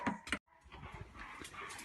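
Dogs being checked and fed their evening meal give short whimpers and yips, heard faintly and close, with two brief sharp bursts at the start, then a quieter stretch of soft movement and muffled dog noises.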